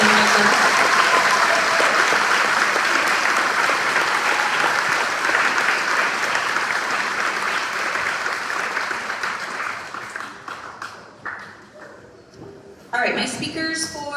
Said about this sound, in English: Can we give them a round of applause for everything they've done?